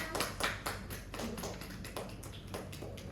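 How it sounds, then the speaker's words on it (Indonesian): Classroom audience clapping after a group presentation, a steady patter of many hands at moderate distance, fairly soft and continuous with no talk. "beri aplaus kepada teman-teman"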